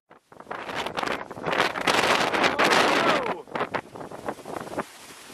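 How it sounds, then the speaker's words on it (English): Strong wind blasts against the microphone during a drive through an Aberdeenshire horse farm, roaring loud and gusty for several seconds before dropping back, with no talk over it. "That is windy."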